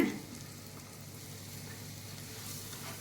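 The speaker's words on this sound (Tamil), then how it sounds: "எண்ணெய் சேர்த்துட்டு கொஞ்சம் நல்லா வதக்கிக்கங்க" Tomato and onion paste sautéing in oil for an egg curry, giving a low, steady sizzle with a brief louder burst at the start, fairly faint and continuous with no talking.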